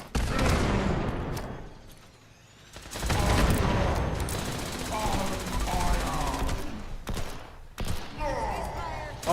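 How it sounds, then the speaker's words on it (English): Explosions and bursts of gunfire in the video game Fallout 76, with loud rapid booms and crackling shots in clustered volleys, and voices talking over the chaos. "Why are there explosions?"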